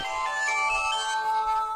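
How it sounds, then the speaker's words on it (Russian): A Sony Ericsson T290i mobile phone plays its startup tone, a short bright melodic electronic jingle of a few clear notes, close and alone. "Телефон пикнул."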